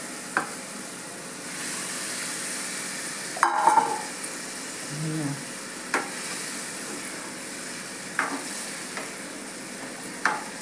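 Boiled egg masala sizzles steadily in a pan with occasional scraping and clinking of a spoon stirring it, close by, no voices.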